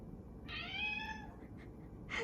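A cat meows twice: first a drawn-out, rising-and-falling mew, then a shorter, sharper one a moment later, both close and clear over a quiet room.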